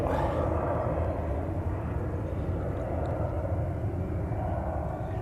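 An EasyJet Airbus A320neo's jet engines rumble as it lines up for departure. The roar is broad, steady and fairly loud, sustained throughout with a low-frequency drone, and no clear talk is heard.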